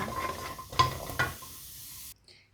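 Chilies dry-roasting in a pan for Thai nam prik num, with a few stirring scrapes and knocks over a light sizzle, ending abruptly after about two seconds.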